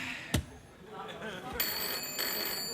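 Telephone ringing on a late-night talk show set, a steady electronic ring that starts partway through and continues to the end, heard over studio background noise and a couple of thumps.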